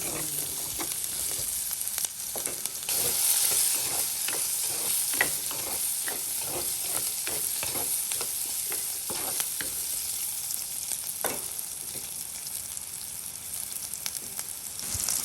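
Onions, garlic and fenugreek seeds fry in oil for a fenugreek curry in a village home kitchen in Jaffna, with a continuous crackling sizzle broken by frequent spoon scrapes and stirring taps.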